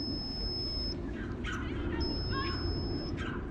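A device sounding a temperature warning beside a boating lake on the Thames, a thin steady high beep held for about a second and repeating, under continuous outdoor rumble and wind.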